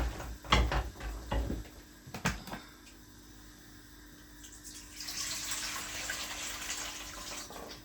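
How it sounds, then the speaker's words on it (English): Water pours into a pot of seared oxtail with a steady, rushing hiss that builds and holds near the end, after a few close clanks and knocks of cookware at the start. "this is where I actually can add the water in and then cover it and leave it for cooking"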